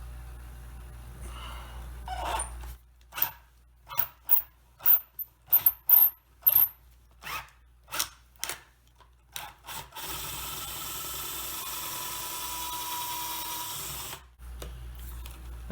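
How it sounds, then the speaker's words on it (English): A half-inch bit drilling into the wood of an antique mahogany candlestand from around 1810 to free a screw: a run of evenly spaced cranking bursts, then a steady continuous grind for several seconds, close and fairly loud. "I'm going to step up to a 1/2 inch bit."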